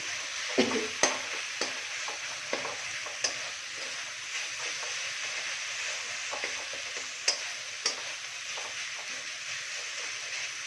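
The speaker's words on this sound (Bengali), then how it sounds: "এবার এই মশলার সাথে মাছটাকে ভালো করে মিক্স করে নেব।" Boal catfish stir-fries in a spice masala for a fish bhurji, with a constant hissing sizzle and a series of sharp utensil clacks and scrapes against the pan at irregular intervals.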